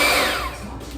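A close electric mixer whirs through muffin batter as milk is added, fairly loud at first and then easing to a softer hum.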